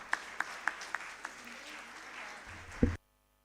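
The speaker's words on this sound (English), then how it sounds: "Please have a huge round of applause for them." Medical conference audience applauding, a thin spread of claps with a few sharper individual ones, fairly quiet, ending in a brief louder thump before cutting off.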